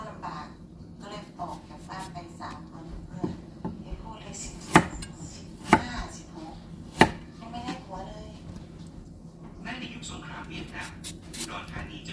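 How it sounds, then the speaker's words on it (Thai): A knife chops papaya on a board for Thai sour curry: soft, irregular cuts with three sharp, loud knocks near the middle, under someone talking throughout. "เดี๋ยวจะลองหั่นแบบ มะละกอก่อนเนาะ"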